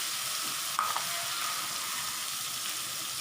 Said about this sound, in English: Fry these as well until it goes soft.